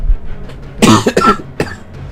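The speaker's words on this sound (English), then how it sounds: "I'm trying not to cough into the mic" A few close, loud coughs in a quick cluster, one harsh burst followed by a second and a shorter third, with otherwise quiet background.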